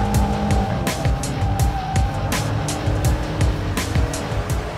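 A mid-engined Alfa Romeo 4C sports car, driven hard on a test drive, roars steadily and close up, its revs rising and falling with sharp bursts and a constant rumble throughout.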